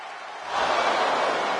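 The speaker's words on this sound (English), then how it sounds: "the crowd does not agree either." Wrestling crowd in the WWE 2K25 video game voicing disapproval, a broad roar of massed voices that swells after a quiet start and then holds loud and steady.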